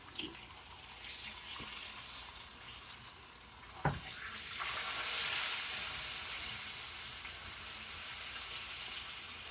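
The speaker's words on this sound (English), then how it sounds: "I'm holding it down in the hot grease to get a little sear" Bone-in pork chop frying in hot grease, a steady low hiss and sizzle with one sharp pop partway through, swelling slightly louder afterward.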